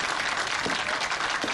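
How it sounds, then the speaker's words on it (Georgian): A crowd claps continuously and evenly for a short burst, dense and close, with no individual voices standing out. "მეტი აპლოდისმენტები"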